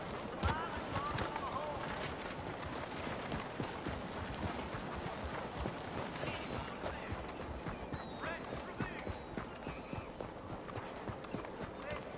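Horse hooves galloping at a steady, rapid clip-clop in the Red Dead Redemption 2 video game, loud and continuous, with occasional shouts from a rider over the pounding gait.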